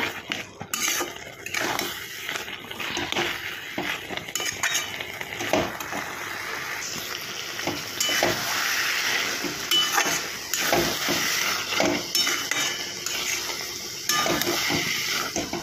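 Cabbage with poppy seed paste is stirred in a pan, with a continuous close mix of scraping spoon, metallic clinks and light sizzling and no talk.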